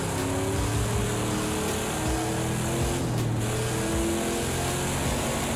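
A Camaro Z/28 engine in a VR drift video game roars continuously and loudly, its pitch rising and falling as it revs and shifts through the drive, alone with no voices.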